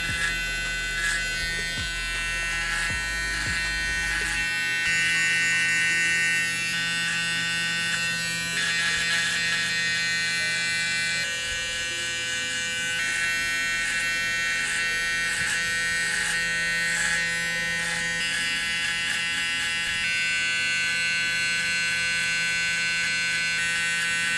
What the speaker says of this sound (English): Using my Gamma Evo X trimmer.